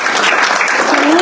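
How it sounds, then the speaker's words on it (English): Applause from an audience at a City of Murrieta community coffee meeting, a dense steady wash of clapping at full level through the whole moment, with a voice starting to speak under it near the end. "How about a round of applause for our economic development?"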